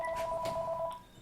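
A phone signals an incoming call with a steady two-tone electronic chirp, close and moderately loud, lasting about a second before stopping.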